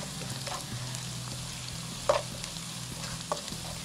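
Onions frying in a pan on a stove, cooking toward a pinkish golden colour, give a steady, moderate sizzle with a couple of brief sharper crackles and spits along the way.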